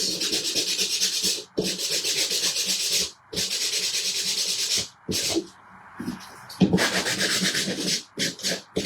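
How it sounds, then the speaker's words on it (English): Rapid back-and-forth scraping of a sanding block rubbing paint off a hard edge, in bursts with short pauses between. "get the paint off the edge with the sanding block"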